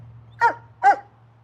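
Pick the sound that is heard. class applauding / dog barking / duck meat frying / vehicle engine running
dog barking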